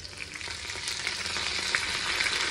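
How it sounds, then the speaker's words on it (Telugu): Curry leaves crackle and fry in hot oil for a tomato mint chutney, a steady close sizzle with small pops throughout and no talking. "ఇంకా లాస్ట్లో ముందుగా కట్ చేసి పెట్టుకున్న కర్రీ లీవ్స్ వేస్తున్నాను."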